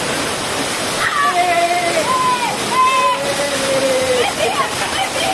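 Waterfall and splashing water at the Quebrada de Macul ecopark in Chile, a steady broadband rush running throughout, with people's voices and calls over the top.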